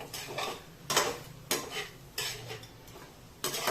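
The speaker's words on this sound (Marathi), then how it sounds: "आता हे छान असं हलवून घेऊया" Vegetables are stirred in a pan, giving a quiet, soft sizzle under regular scraping and clinking strokes of a spoon against the metal, about one every half second.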